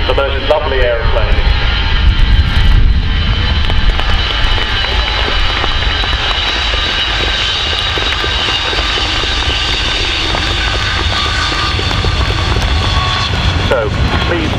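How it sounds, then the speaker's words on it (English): A loud Avro Vulcan bomber, XH558, roars and rumbles steadily at an RAF air show, with a high whine and heavy low drone filling the air close by. "And there she is, the most lovely aeroplane."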